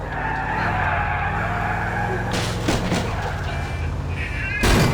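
Car tires skid in Grand Theft Auto IV, then the car crashes into a bus stop: a long, loud screech and engine roar, broken by a harsh impact near the midpoint and another crash at the end.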